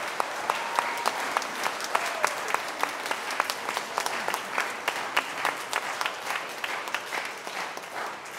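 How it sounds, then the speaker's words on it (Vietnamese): During a Vietnamese-language Christmas Nativity Mass at St. John the Baptist church in Costa Mesa, the congregation gives a warm, sustained round of applause for the Comisa choir, crisp individual claps standing out within the dense crowd clapping. "Và chúng ta làm một tràng pháo tay cảm ơn ca đoàn Comisa."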